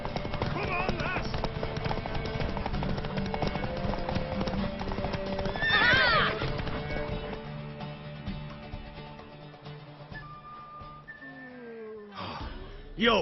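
A horse gallops in The Witcher 3, hooves clip-clopping in a quick steady rhythm under a man's spoken lines, a sharp neigh cutting through midway and another whinny rising near the end.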